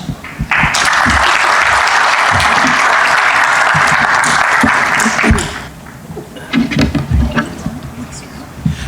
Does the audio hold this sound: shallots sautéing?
no